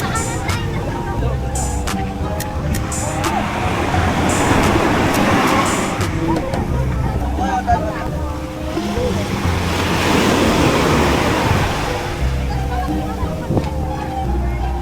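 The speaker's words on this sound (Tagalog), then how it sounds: "Ang lakas ng alon." Strong ocean waves on the beach at Nasugbu, a loud continuous wash of surf that swells and recedes in broad surges, with wind buffeting the microphone close by and faint voices in the background.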